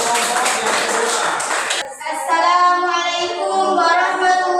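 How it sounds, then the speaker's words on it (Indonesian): A room of listeners claps for a group of presenters at a school event, a dense burst of applause that shifts to a brighter, ringing texture partway through, loud and close, with a voice faintly in the mix. "Tepuk tangan dulu dong buat kelompok yang kedua"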